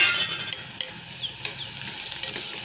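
Onions frying in a pan with salt, turmeric, chili powder and garam masala, a continuous close sizzle broken by a few sharp scrapes and clinks of stirring.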